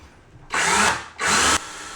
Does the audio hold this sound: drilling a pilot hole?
yes